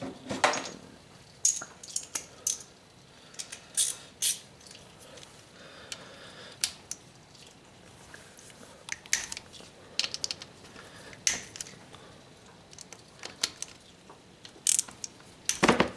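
An 8 mm socket wrench working a bolt loose on a 2008 Honda 500 Foreman ATV: scattered ratcheting clicks and metallic clinks in short bursts over a quiet background, close up.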